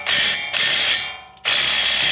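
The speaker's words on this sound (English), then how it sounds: "I'm gonna hit it with the impact because we're too lazy to use a breaker" Impact wrench hammering off a 35mm nut on a 4WD steering assembly, three loud bursts of rapid rattling, the last after a short pause, close and alone.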